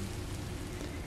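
Steady rain falling in Minecraft: Story Mode, a dense, even hiss of drops that continues without a break through the short moment.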